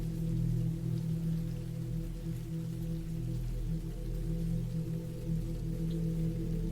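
Steady rain falls continuously as a soft, even hiss over a low rumbling background, with no voices and no pauses throughout.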